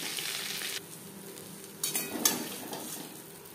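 Shrimp frying in a pan for chingri malai curry sizzle steadily while being stirred, with a constant hiss and a few soft scraping and clinking sounds close by.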